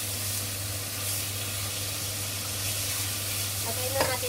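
Egg noodles and sotanghon stir-fried with chicken breast and barbecue sauce make a steady close sizzle with a low hum beneath, and a few brief clatters of stirring come near the end.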